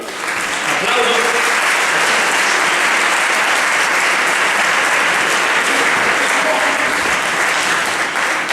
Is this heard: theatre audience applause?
yes